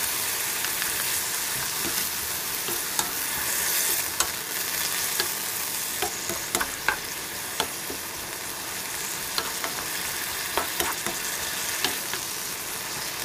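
Burdock cooks in a pan of kelp stock and sugar seasoning over medium heat, giving a loud, continuous sizzling bubble with scattered small pops and clicks.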